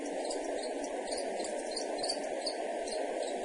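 Steady, dense chorus of crickets chirping alone, a continuous even insect trill with faint pulsing, fairly loud and close with no other sounds.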